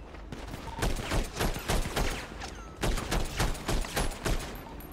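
Gunfire crackles through a GTA roleplay shootout during a police raid, repeated bursts of rapid shots coming in rhythmic waves, loud and close, with no talking.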